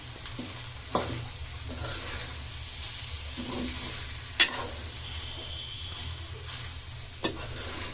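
Dried chilies and spices frying in a pan for chicken polao, with a continuous close sizzle broken by a few sharp knocks of a spoon against the pan.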